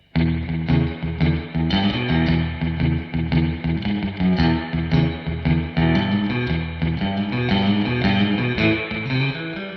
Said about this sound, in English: this is the spring reverb, the basic preset that comes with it